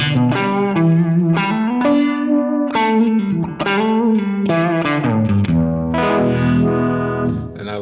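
Electric guitar through a Cornerstone Aquarium univibe pedal with the mix at 50: a loud, close, slightly driven riff of chords and single notes with a swirling, wavering modulation, played continuously for several seconds.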